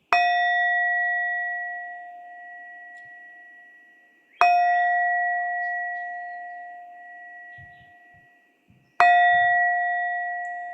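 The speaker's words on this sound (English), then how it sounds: "So Ed is going to ring the bell this evening." A bell rung in a Buddhist ceremony, struck three times at even intervals of about four and a half seconds, each clear metallic ring sustaining and slowly fading, close and alone in a quiet room.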